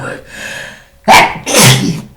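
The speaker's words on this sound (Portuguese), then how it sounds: "Gente, desculpa, veio um espirro do nada." A single sneeze bursts out sharply in a quiet indoor room during a knitting session, with a soft breathy intake before it and a second loud explosive burst right after.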